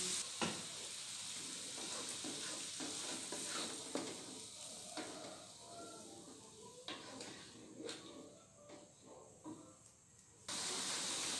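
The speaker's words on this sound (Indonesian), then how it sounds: "Jadi kita masak melinjonya sampai matang." Melinjo simmering in coconut milk and spice paste in a home kitchen, a soft continuous bubbling sizzle with occasional stirring clatters and utensil knocks, quiet and close.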